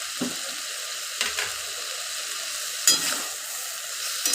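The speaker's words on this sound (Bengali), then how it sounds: "টমেটো বাটা দিয়ে দিলাম" Tomato paste going into a frying curry of drumsticks, potato and fish, with a steady close sizzle and a few brief louder bursts of spattering, no voices.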